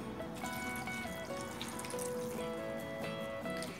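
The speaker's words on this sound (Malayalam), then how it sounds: "ഇനി ഇതിലേക്ക് ആവശ്യത്തിനുള്ള വെള്ളം ചേർത്തിട്ട് നന്നായിട്ടൊന്ന് വേവിച്ചെടുക്കാം." Water trickles and pours steadily into a cooking pot of pineapple, a continuous close splashing flow with faint ringing tones and no talking.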